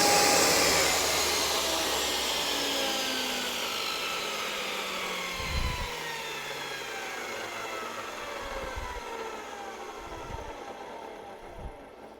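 A table saw with the blade lowered cuts through wood, a steady whining drone that slowly falls in pitch as the blade spins down, with a few short low knocks as offcut pieces shift. No one speaks.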